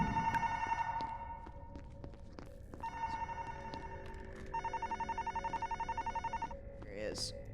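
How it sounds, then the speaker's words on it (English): Video game telephone ringing in repeated bursts of a bright electronic trill, pausing between rings, sitting over a steady background hum with a brief rising chirp at the end. "That's like the phone ringing noise"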